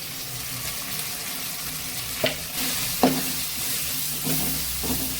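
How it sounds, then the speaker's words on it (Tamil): Masala with chili powder sautéing in a pan, a steady soft sizzle with a few clinks of the spatula stirring against the pan, no talking. "போட்டு நல்லா பச்சை வாசனை போற அளவுக்கு வதக்கிட்டு கொஞ்சமா தண்ணி விட்டுக்கலாம்"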